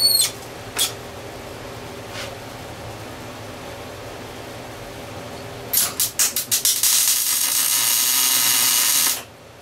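Welding a part on gives several short sputtering bursts, then a loud sustained crackling hiss lasting a few seconds before it cuts off. It is close and heard alone, with no talk.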